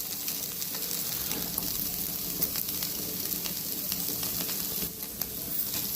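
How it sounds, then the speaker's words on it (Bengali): Rohu fish and boiled potato sizzle in a pan as cutlet mixture fries, a steady close crackle with faint scraping strokes running throughout. "ফ্রাই করে নিতে হবে রুই মাছটা"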